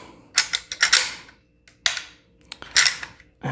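Metal parts of a PSA AK-E rifle clicking and sliding apart during takedown, a few sharp mechanical clacks and scrapes spaced over several seconds, close by with no talking.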